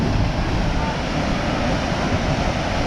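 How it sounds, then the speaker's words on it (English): A waterfall in Little River Canyon, Alabama, pours down the side of the rocky canyon wall, a steady loud broadband rush that holds constant with no pauses, blended with some wind noise. "There's another waterfall right over here coming down the side"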